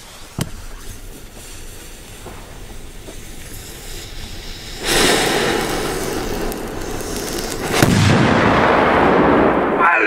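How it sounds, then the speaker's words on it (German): A Polish firecracker (Polenböller) goes off outdoors with a small crack and then two heavy, booming blasts a few seconds apart. Each blast trails into a long, rumbling roar. "Noch ein Polenböller."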